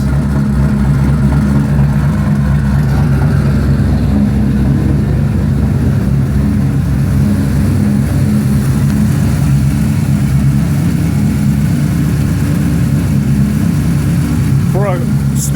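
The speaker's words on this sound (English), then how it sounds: "For a stupid built motor like this, it runs ridiculously quiet." A heavily built 2003 Cobra twin-turbo engine idles in a steady, low, fairly quiet rumble that holds an even tone throughout, with no strong revs.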